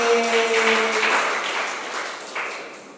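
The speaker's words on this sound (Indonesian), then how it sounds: "Tapi tetap tepuk tangan sekali lagi." An audience at a church gathering applauds in a dense wash of clapping that fades gradually over a few seconds, with a brief held musical tone fading out at the start.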